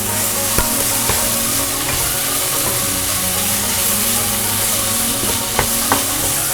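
A spice mixture of salam (bay) leaves, kaffir lime, lemongrass and tomato sizzles and frys steadily in a pan for squid, with light stirring clicks and scrapes now and then over the continuous close frying hiss.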